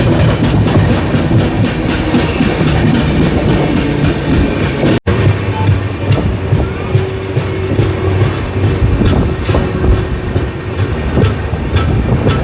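The Jan Shatabdi Express 12080, running from Hubli to Bengaluru, rolls along with a loud, continuous rumble and repeated clickety-clack of wheels over rail joints, heard up close throughout with one brief dropout.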